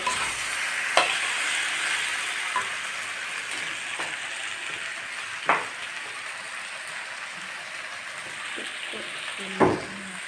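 Slit green chillies dropped into beans and new potatoes frying for a vegetarian chorchori, giving a steady low sizzle with a few sharp clatters and stirring knocks spread across the stretch, close and without talk.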